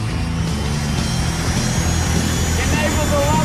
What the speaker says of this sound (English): It sounds like a jet engine.